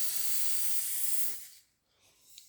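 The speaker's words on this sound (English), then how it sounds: "turn the tree over, give it another spray" An aerosol spray can of paint hissing onto a model tree, one loud continuous close spray burst that stops sharply, followed by quiet handling noise.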